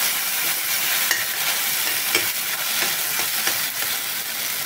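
Freshly ground spice masala with asafoetida sizzles in a hot oiled pan while being stirred, giving a dense steady crackle with occasional louder pops and scrapes, close by and without talk.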